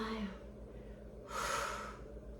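During a Pilates mat exercise, a person breathes near the microphone. A soft breath is followed by a stronger, airy exhale that lasts about a second.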